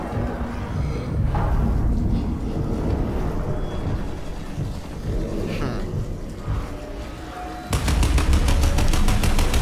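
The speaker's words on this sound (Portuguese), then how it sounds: "Já ouvi esses tiros." Rapid bursts of gunfire in Crysis 2 crackle over a constant roar, and a dense, louder volley closes the clip.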